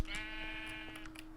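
Sheep in a Minecraft Omnifactory modpack world bleat in a short, loud, clear call with a steady droning tone behind it.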